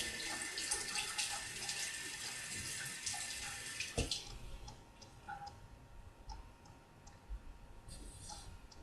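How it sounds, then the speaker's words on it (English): Tap water runs into a sink while shaving foam is rinsed off the legs, a steady close splashing wash that drops a little after a few seconds, with scattered small clicks and drips over it. "You're going to have to rinse that foam off"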